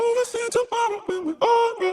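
A chopped hyperpop vocal loop with a darkened, deepened formant, short sung syllables repeating in a steady stuttering pattern, upfront and dry.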